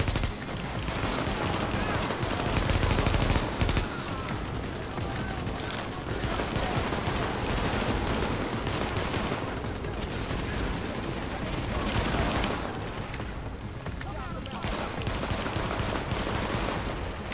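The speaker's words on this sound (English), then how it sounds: "I'm just suppressing him at this point." Continuous loud gunfire from The Division video game, dense rapid automatic bursts and overlapping shots filling the whole stretch with little letup.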